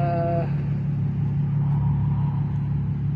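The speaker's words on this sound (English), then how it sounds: "This is some kind of army truck." A Steyr-Puch Pinzgauer army truck drives nearby with a steady low engine rumble and road noise, continuous throughout and without any talk.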